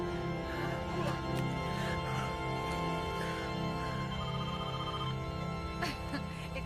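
A telephone rings steadily through the whole stretch, its repeated bell tones sitting over a busy background with no one speaking.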